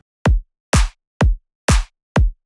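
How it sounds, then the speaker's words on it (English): A programmed house drum beat, four steady kick hits with two of them layered with a bright clap, crisp and evenly spaced, alone with no voices. "we're making house today, so do the house beat"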